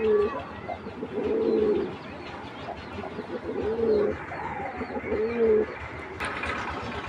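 A pair of Giribaz army high-flyer pigeons coo in repeated low, rolling phrases, four or five distinct bouts over steady background noise, close and clear, with a brief rustle toward the end.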